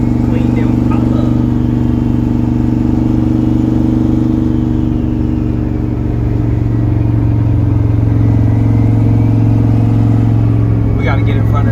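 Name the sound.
race car engine running and revving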